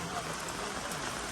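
Rain falls outdoors in Thailand as a dense, steady hiss of drops pattering on surfaces, continuous and fairly loud throughout with no pauses.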